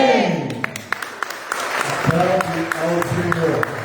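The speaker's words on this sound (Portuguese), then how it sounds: "Aplaude ao Senhor." A congregation applauds during a Sunday church service, with sharp scattered claps that thicken into steady clapping while a voice speaks or sings over them.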